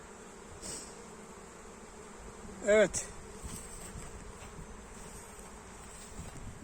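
A low, continuous drone of many honey bees around a crowded hive, clustering outside in the heat, with a single brief spoken word and a passing buzz rising over it.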